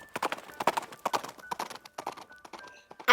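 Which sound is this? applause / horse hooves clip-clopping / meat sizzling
horse hooves clip-clopping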